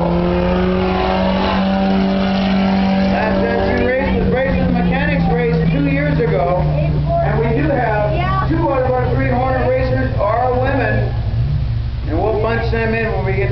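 A race car runs a timed lap at Eagle Track Raceway in July 2013, its engine giving a steady, continuous hum that sits underneath an announcer who talks over it throughout.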